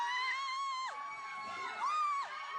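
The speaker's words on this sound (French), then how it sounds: "Sous les cris des témoins, ils repartent avec celle qu'ils sont venus chercher, Sonia Damani." Witnesses shout and scream at a forceful arrest in Tunisia, with loud, high, strained voices wailing continuously, one piercing cry rising and falling.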